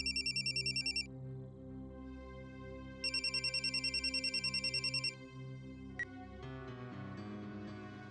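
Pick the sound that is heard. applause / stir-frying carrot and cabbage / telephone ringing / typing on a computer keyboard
telephone ringing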